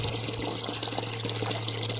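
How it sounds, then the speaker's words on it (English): Water gushes steadily into buckets being filled for calves on a calf-rearing farm. The rushing, splashing flow is close and continuous, with a low, even hum underneath. "Once the buckets are all clean, they then get filled up."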